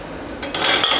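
A spoon stirs sugar into pickle brine in a pot, a brief close scraping and clinking swirl that grows louder over about a second, with no talking.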